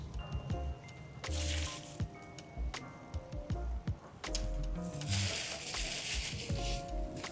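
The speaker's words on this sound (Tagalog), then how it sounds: "Hintayin nyo muna mag-drain. As in, drain na drain." Engine oil draining from a CFMOTO 675SR-R motorcycle during an oil change, heard as wet trickling and splattering into a catch pan, fairly close, with clinks and handling noises and broadband hiss bursts.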